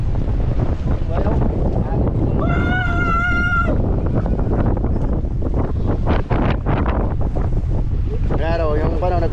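Strong stormy wind buffeting the microphone at a fishing port by the sea, a loud constant roar with waves and boat noise beneath, and brief voices calling out in the background.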